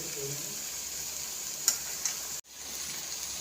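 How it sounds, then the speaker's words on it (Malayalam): Beef tongue fries with crushed black pepper in a pan under a steady, soft sizzle. A couple of faint clicks sound, and the sizzle cuts out abruptly for a moment before resuming. "നല്ലതുപോലെ മിക്സ് ചെയ്യാം ഇത് കുറച്ചും കൂടി ഒന്ന് വരട്ടിയെടുക്കാം"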